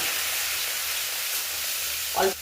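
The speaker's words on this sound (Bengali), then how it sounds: "জিরে গুঁড়ো, ধনে গুঁড়ো, কাশ্মীরি লঙ্কা আর একটু হলুদ, একটু লবণ দিয়ে মশলাটাকে একটু কষাবো" Ground cumin, coriander, Kashmiri chilli, turmeric and salt fry in oil in a pan for a Bengali rajma tarka, giving a steady, even sizzle, with a brief clatter of a utensil near the end.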